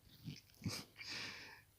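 Puppies in the survival video game LDoE Survival make brief snuffling, whimpering and yipping sounds, two short close bursts, with no talking.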